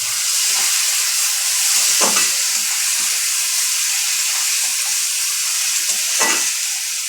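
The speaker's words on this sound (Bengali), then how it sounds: "চলো পেঁয়াজটা ভাজা হচ্ছে তো।" Steady, loud sizzling of onions frying in a pan, with a few soft scrapes of a spoon stirring through the continuous hiss.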